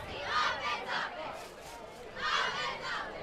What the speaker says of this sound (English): Big crowd here at North High School tonight.